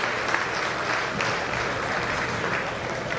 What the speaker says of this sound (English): Regentonians, let's give Mr. Shaw a round of applause